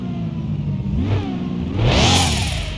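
A 1998 Toyota Supra engine in the game Car Mechanic Simulator revs loudly and close, rising in two surging pulls with a sharp climb near the end, no talk over it.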